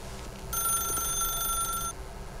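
A telephone rings in the video game The Stanley Parable, one sustained electronic ringing burst of about a second and a half, clear and close, with no talking.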